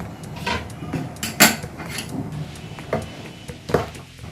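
A banana cake tin lifted out of the oven, with a few sharp metallic clanks and knocks of the pan against the rack, close and intermittent among quieter kitchen rustling.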